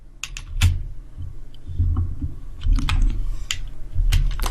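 Several distinct keyboard keystrokes tapped one at a time on a computer keyboard, close and fairly loud, spaced irregularly with pauses between them, no speech.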